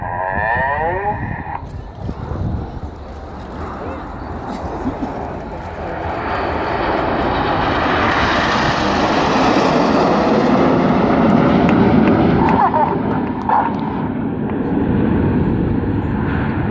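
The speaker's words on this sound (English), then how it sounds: "you've seen all 9 aircraft together performing close formation aerobatics" Loud roar of the Red Arrows' nine jets in close formation building and sweeping overhead at an air show, a broad rushing engine noise that swells steadily and stays strong to the end.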